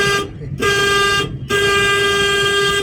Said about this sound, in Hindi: हॉर्न बजाइए, हॉर्न कैसे बजाएंगे